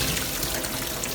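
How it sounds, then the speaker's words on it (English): Tap water runs in a steady, close rush as freshly picked wild blackberries soak before seedless jam is made. "So we're just soaking the berries now."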